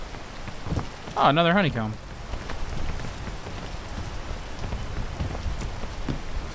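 Rain falls steadily as a soft, continuous patter across the whole scene, and a person speaks briefly over it near the start.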